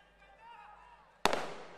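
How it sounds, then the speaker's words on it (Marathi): A single sharp firecracker burst at a political rally, loud and sudden with a decaying crackle, following a stretch of murmuring crowd noise. "जिंकल्यानंतर लावा आता फटाके."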